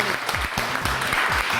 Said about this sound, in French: Et on l'applaudit très fort.